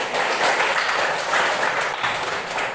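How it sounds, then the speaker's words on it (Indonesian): A classroom of students claps together during an Islamic religious education lesson, a dense, steady patter of many hands filling the whole moment, fairly close and moderately loud, with no talk over it. "Iya, duduk kembali, tepuk tangan."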